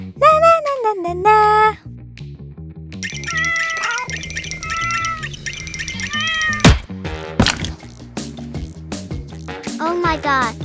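A cat meows repeatedly, loud and close, with several drawn-out pitched cries and some broken bursts. Sharp clicks and other sounds fall between the calls.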